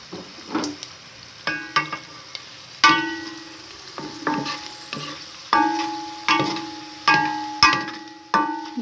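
Garlic frying over low heat in a pot for vegetable soup, stirred with a spoon: about a dozen sharp, ringing scrapes against the metal come roughly once a second over a soft sizzle, close and clear, with no talking.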